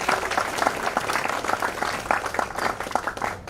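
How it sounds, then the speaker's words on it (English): An audience at a Cloud Community Days event in Bhopal gives a hearty round of applause, dense clapping that holds steady for a few seconds and fills the room. "A huge round of applause for you."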